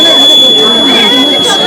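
A buzzer on a school exhibition model sounds as a steady high electronic tone throughout, with a person talking over it amid room noise.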